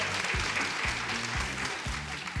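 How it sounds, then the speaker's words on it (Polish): Steady audience applause at a local talent show, dense clapping filling the whole short stretch at moderate volume with no voices over it. "tak, wielkie brawa!"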